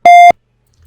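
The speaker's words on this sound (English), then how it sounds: "One beep sound will come." A single short, loud electronic beep with a steady tone, lasting about a quarter second and then silence, from QGIS software signalling that satellite image classification has finished.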